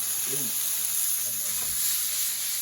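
Vegetable kebabs with mushrooms sizzle steadily as they char, a constant bright hiss of frying with a faint voice murmuring briefly underneath.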